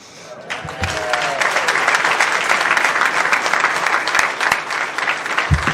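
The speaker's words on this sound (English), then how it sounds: "this is where the applause comes in" Audience applause fills a school board meeting in Tomball ISD, Texas, honoring a state champion student; steady, dense clapping from a crowd sustains loudly for several seconds with some voices mixed in.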